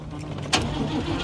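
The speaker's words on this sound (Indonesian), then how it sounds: "Namun saat akan menyalakan mesin mobil" A car engine is started in a film scene, a short starter crank catching into a low running rumble heard close and fairly loud over a steady low hum.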